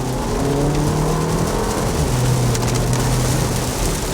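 A 2017 Porsche Macan's four-cylinder engine drones loudly and steadily from inside the cabin as it revs, with heavy rain hissing across the car throughout.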